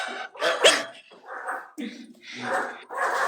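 A restless dog, agitated at the sight of a person, gives a few close, loud bark-like yelps and whimpers mixed with breathing, while people talk nearby.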